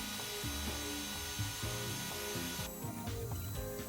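A homemade CNC router carrying a heavy trim router machines a part on a flimsy frame, giving a steady mechanical whir with repeated grinding, rubbing strokes and audible chatter throughout.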